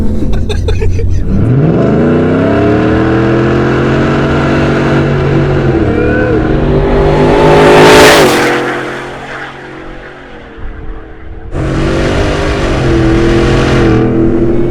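A supercharged 750-horsepower Hennessey Ford F-150 pickup engine revs and accelerates loudly, pitch climbing through gears with a whining blower, easing off and then surging again, heard close from inside the truck.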